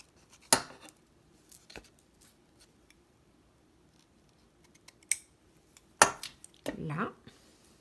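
Scissors snip paper for a spring craft pouch, with a few sharp isolated cuts spread out among quiet pauses, close and crisp, with a soft voice speaking faintly in between.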